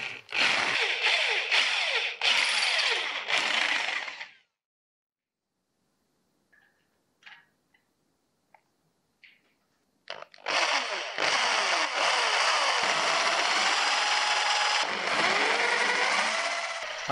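A power drill bores 3.2 mm holes through the steel tang of a drop point hunting knife, whining loudly for about four seconds. After a quiet gap with a few faint clicks, it starts again and runs steadily to the end.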